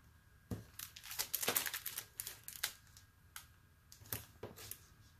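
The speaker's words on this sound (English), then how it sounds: "I need to use double-sided tape because there is not much space" Double-sided tape being handled for paper crafting with a beginner's paper pad: a run of close, crisp crinkling and tearing rustles with sharp paper clicks, alone without talk.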